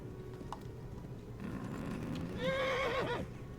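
A horse in the Kingdom Come: Deliverance video game gallops with steady hoofbeats, then lets out a loud, clear whinny near the end.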